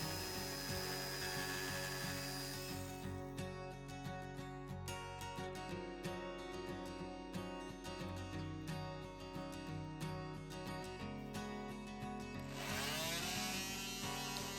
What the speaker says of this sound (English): I have this sander which is a quarter sheet sander, and it's electric.